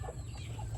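Chickens cluck softly on a backyard game farm where hens of the Sweater, Hatch and SBR breeds are kept, a short, faint burst of clucks over a low rumble of background noise.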